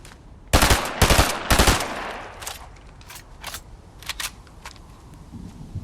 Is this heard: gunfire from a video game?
yes